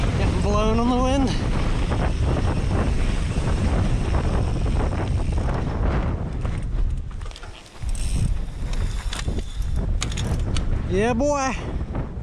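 Strong wind buffets the microphone during a mountain bike descent in a mass-start race, a constant loud roar with tyre and trail rumble beneath, briefly easing near the end while a rider calls out.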